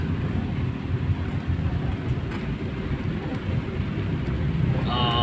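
Heavy rain pours in a dense, steady roar with a deep rumbling undertone, loud and unbroken throughout.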